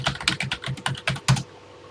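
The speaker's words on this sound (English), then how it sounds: "Let's go ahead and start typing." Rapid, close typing on a computer keyboard entering a TI-99/4A BASIC program, with crisp rhythmic keystrokes of about eight to ten clicks ending in a slightly heavier press, with no talk.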